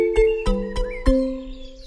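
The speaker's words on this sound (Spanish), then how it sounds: "¿Qué sonido hace el búho?" An owl calls in a series of four low, tonal hoots, the last one drawn out, clear and alone without talk.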